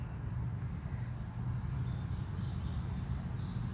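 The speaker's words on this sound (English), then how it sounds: "I can hear the birds singing" Faint bird calls twitter in the distance over a low, steady background rumble, heard outdoors while walking.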